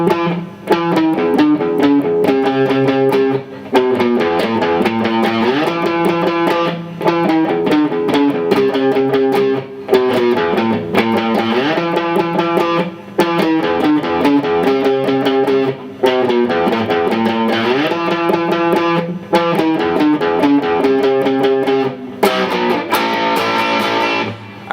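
Distorted electric guitar playing the verse of a song in an odd, lurching meter, steady and loud with effects-laden tone and sustained riffing throughout, no voices.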